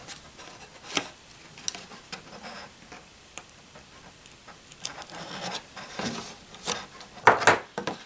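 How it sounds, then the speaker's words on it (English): An X-Acto knife scrapes and lifts paper in stamping craftwork, heard as close, soft scratchy rubs and small ticks that come in irregular bursts, with a sharper crinkle near the end. "I'm just going to take my little X-Acto knife and peel back this."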